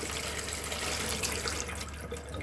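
Water runs steadily from the hot and cold tap into the bathroom wash basin of a 2015 Swift Challenger Hi Style 554 caravan, a close, continuous hiss and splash.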